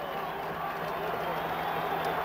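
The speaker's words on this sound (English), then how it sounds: "Okay, the crowd really hollering now." A packed stadium crowd at a 1987 Michigan State vs Michigan college football game roars as a continuous broad wash of noise, loud and unbroken, with a broadcaster's voice faintly mixed in.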